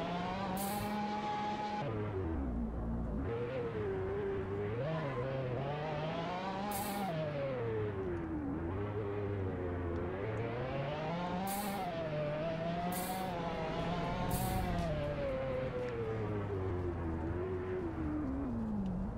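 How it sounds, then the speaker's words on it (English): A Lamborghini Aventador's engine revs in a Roblox driving game, the pitch rising and falling continuously through repeated shifts, with a few sharp crash-like bursts along the way. "I'm trash at freaking driving this Aventador"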